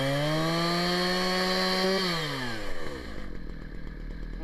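A chainsaw engine at high idle, its steady whining tone holding for a couple of seconds before dropping to a lower, rougher idle with a slight sputter toward the end.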